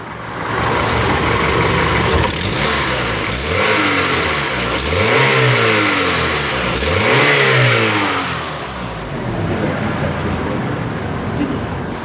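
A Honda Accord engine with a no-power fault and reversed TPS and MAP connectors is snapped through quick throttle blips, rising and falling in three or four swells over a steady close idle.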